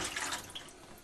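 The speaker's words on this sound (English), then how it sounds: "It's going to be a little water that runs out of the drain, like that." Water trickles and splashes out of a bathroom sink drain pipe during unclogging, a short, soft wet gush near the microphone with no voices.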